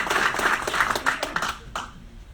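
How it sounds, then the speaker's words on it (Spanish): An audience claps at a Santiago book launch for Heraldo Muñoz's "Democracias en peligro", producing a burst of scattered, fairly close handclaps that thin out and fade toward the end. "Un aplauso para todos."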